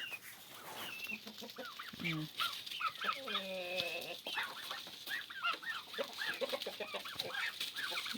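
A white hen clucks steadily and close by while eating wheat from a box in a farmyard poultry enclosure, with other fowl calling softly around it.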